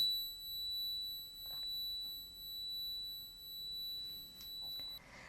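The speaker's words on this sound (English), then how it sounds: "I do have high-pitched ringing sounds in my both ears" Simulated high-pitched tinnitus: a thin, steady, faint electronic ringing tone that holds unbroken for about five seconds and then cuts out, with a soft hiss behind it.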